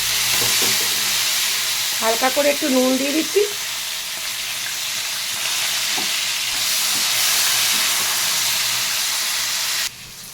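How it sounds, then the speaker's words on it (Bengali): Potatoes and pumpkin stems fry in hot oil in a home kitchen, giving a steady close sizzle and hiss throughout, with a brief spoken remark early on. "আলুটা এক খোলা ভাজা হয়ে গেছে, দিয়ে দিচ্ছি কুমড়োর ডাঁটাগুলোকে আগে"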